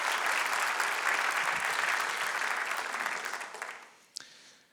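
Sustained applause from an audience of about 125 at a community report event, steady and dense before fading out near the end, with a lone sharp clap at the tail.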